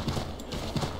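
Horse hooves clip-clopping in a quick, steady rhythm in the video game Assassin's Creed III, fairly close, over a constant background hum.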